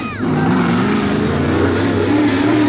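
A late model race car rips past at Sumter Speedway during qualifying, its engine a loud, steady roar close by with a brief pitch change at the start, and a voice talking over it.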